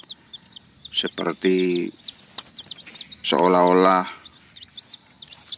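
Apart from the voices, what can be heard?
Sumatran red junglefowl chicks chirping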